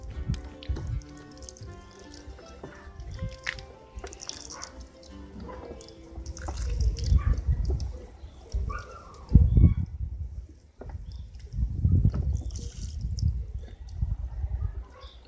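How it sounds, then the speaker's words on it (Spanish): A watering can pours onto bean plants in an urban organic vegetable garden, giving intermittent bursts of splashing and dripping water up close, with quieter pauses between pours. "¿Estás regando? Sí. ¿Qué estás regando? Agua."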